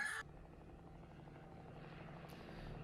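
A helicopter from the film Commando drones faintly in the distance, a steady low rotor thrum throughout after a brief sharp burst at the start.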